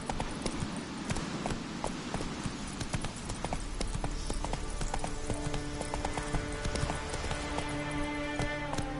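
Roach the horse gallops in a PS4 video game: a steady, continuous run of clip-clopping hoofbeats, fairly close, layered over sustained tonal game music for the whole stretch.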